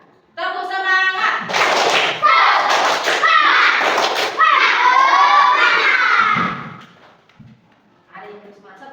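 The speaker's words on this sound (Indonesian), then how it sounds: "Tepuk semangat." A primary-school class performs a rhythmic spirit clap, with children chanting loudly together and clapping in patterned bursts for several seconds, then a brief pause and a little more voice at the end.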